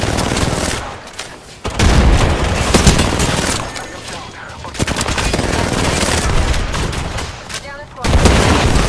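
Frag grenade blast and gunfire in the shooter game Apex Legends: loud, close bursts of booming and rapid fire, with sudden drops between them and a player talking amid the noise.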